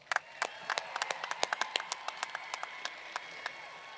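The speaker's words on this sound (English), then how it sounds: "Let's give them another round of applause." A few hands clapping in a sparse, irregular patter at a high school graduation, quiet and somewhat distant, with individual claps standing out rather than a full crowd roar.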